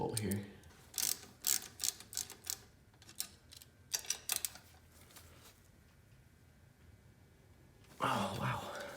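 Bracket bolts come off a Jeep Wrangler TJ with a ratchet wrench: quiet, close bursts of rapid clicking, then a pause, then a louder burst of ratcheting near the end.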